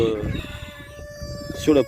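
A Brahma hen on a small homestead gives low clucks and a short squawk nearby, with a voice talking softly underneath at the start.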